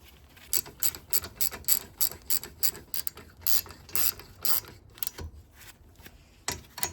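A ratchet or torque wrench tightens rear brake caliper slider pin bolts on a 2017-2023 Subaru Impreza, producing close, crisp clicking bursts in short repeated strokes over a quiet background, with no speech.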